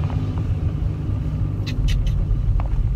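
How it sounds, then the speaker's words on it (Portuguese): A car's engine rumbles up loudly as it accelerates, with a deep throbbing drone and a few faint higher squeaks over the top. "Vamos acelerar essa merda."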